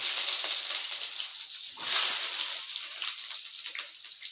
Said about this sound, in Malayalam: കടുക് പൊട്ടി നമുക്ക് ഇനി ഇതിലോട്ട്